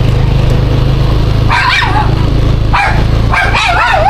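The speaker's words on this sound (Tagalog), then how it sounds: "Daming asong maliliit." Several small dogs yap in short bursts at a distance on Rojas Street in Tambulig, Zamboanga del Sur, high and sharp, over a loud steady engine drone.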